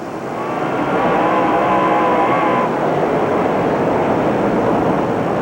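A pack of 700-750 horsepower race cars roars at Dixie Speedway during the 1998 Hav A Tampa Shootout, heard from inside Ray Cook's Ford Mustang: a loud, steady, droning engine howl with a rising whine that holds for the whole stretch.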